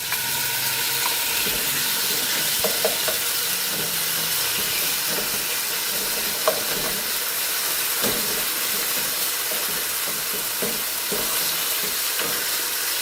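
Thin slices of chicken thigh stirred in a hot pan, a steady sizzling hiss of frying with occasional scraping and clinking of the utensil against the pan.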